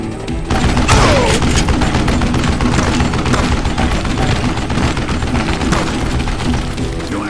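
Dense, sustained gunfire from Call of Juarez: Gunslinger, a loud continuous barrage of overlapping shots and booms with no pauses, filling the whole stretch without talk.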